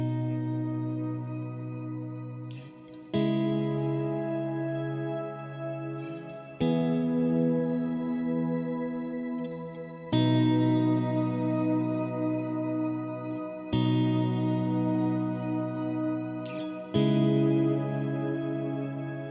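Sustained guitar chords ring out one after another through a Neunaber Stereo Wet shimmer reverb pedal, each washed in lush, shimmering reverb that swells and lingers between strums.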